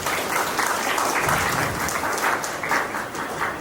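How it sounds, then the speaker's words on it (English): An audience applauding at a school felicitation ceremony, a dense, sustained burst of many hands clapping together, fairly loud and close, with no speech over it. "I clap you for doing this."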